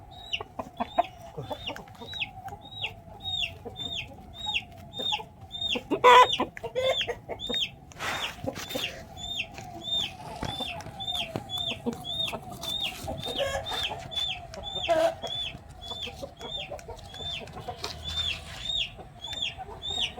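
Faint rooster clucks repeat in a quick, steady rhythm, with scattered bumps and rustling handling noises in the background.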